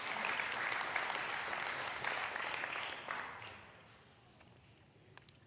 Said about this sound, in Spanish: ¿Se dan un aplauso a ustedes mismos?